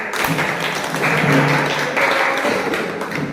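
A group at an Indonesian discussion session applauds, a dense patter of clapping that keeps going throughout, surging and easing in waves, with no speech.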